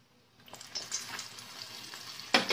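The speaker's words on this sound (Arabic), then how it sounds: "نديروها في المقله عامره بالزيت" Sfenj dough drops into a pan full of hot oil, giving a faint, close crackle that swells into bubbling sizzle with small splashes and a louder burst near the end.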